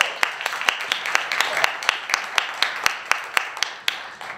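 An audience applauds a keynote speaker at a Podcamp Pittsburgh conference. The applause is a steady, moderately loud wash of many hands, with sharper individual claps standing out at a regular rhythm throughout.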